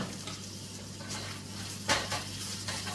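Seasoning, including garlic powder, being mixed in a bowl for a burrito bowl, with soft scraping and light clinks of a utensil against the bowl over a low steady hum, one brighter clink in the middle.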